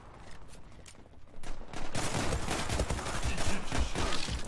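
Glock-18 pistol fire in the online shooter Zula: faint quiet shots at first, then a sustained rapid stream of loud automatic gunfire for the last few seconds.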